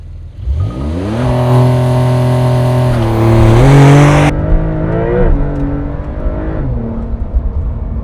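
Porsche 911 launching hard under launch control, the engine revving loudly and climbing through rising gear pulls with a shift midway, heard from inside the car, then easing off.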